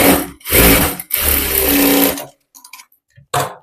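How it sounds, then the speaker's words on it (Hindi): A sewing machine stitches a strip onto a blouse in loud close bursts: a short run, a longer continuous whir, then a brief final burst after a pause with faint handling clicks. "अब एक सिलाई में पट्टी की तरफ लगा रही हूँ"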